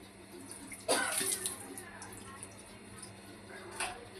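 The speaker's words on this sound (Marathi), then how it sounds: "ताटावर पाणी ठेवायचंय." Water is poured onto a plate set over a pot of ghevda (flat bean) vegetable cooking on a gas stove: a short splashing burst, then fainter trickles and a second brief splash near the end.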